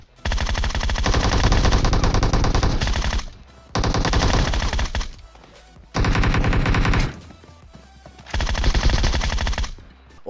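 Rapid automatic gunfire from a battle royale game while the player jumps and shoots, four long loud sustained bursts separated by short pauses, close and dominant with no talk.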